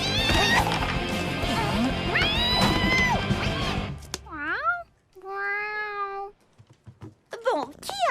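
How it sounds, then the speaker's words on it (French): A cat meows several times in a classroom, drawn-out rising and falling cries that come after a stretch of loud talk and music, then carry on mostly alone. "qui a amené ce chat en classe?"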